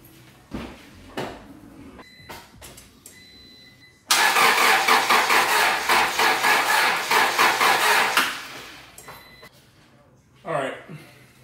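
A car with a distributor ignition system, just fitted with a new ignition coil, cranks for about four seconds with a loud, rhythmic starter whir that fails to catch, framed by clicks, knocks and brief talk.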